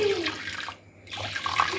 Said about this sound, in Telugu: వాటర్ వేసి ఈ విధంగా నానబెట్టుకోవాలి